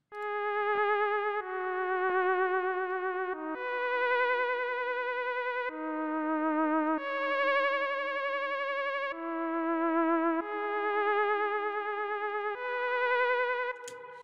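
A theremin-style synth lead from the Venexi 3K kit plays a sustained, gliding melody of held notes with vibrato and reverb, loud and alone, with no drums or voices.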